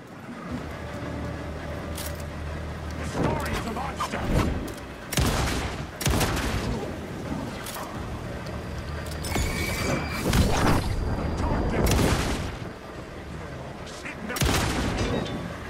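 Gunshots in the survival horror game Alan Wake 2, a series of loud, sharp blasts spread irregularly over a tense ambient bed, with a voice briefly speaking between shots.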